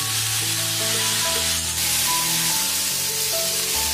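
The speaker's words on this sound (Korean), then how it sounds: "팬에 삼겹살을 노릇노릇 구워주세요." Pork belly frying in a pan, a loud, steady sizzle that crackles and spits all the way through, close up and with no voices.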